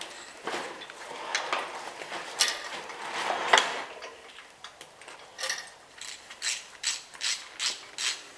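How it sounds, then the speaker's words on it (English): Ratchet wrench clicking as head bolts are cranked loose on a Subaru Impreza wagon during a head gasket job, bursts of close, rapid pawl ticks in uneven runs, ending in a steady series of regular ratcheting strokes. "then we can crank off the bolts"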